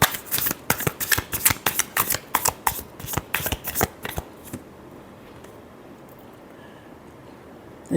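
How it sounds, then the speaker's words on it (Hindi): A deck of tarot cards is shuffled in quick, crisp riffling bursts for about four seconds, close and clear, then the sound stops and only a quiet room hum remains. "अपने पर्सन के लिए। Last shuffle."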